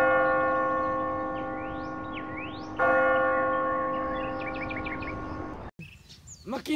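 A church bell rings from a bell tower in a Philippine town setting, its steady sustained tones ringing loud and near for several seconds, with a fresh strike partway through and birds chirping over the ringing before it cuts off.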